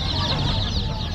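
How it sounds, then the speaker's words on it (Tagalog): Chickens at a pet market cluck and squawk in a dense, continuous chorus, close and steady, with faint crowd noise beneath. "Mga manok, oh."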